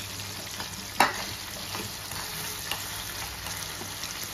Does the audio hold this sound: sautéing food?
yes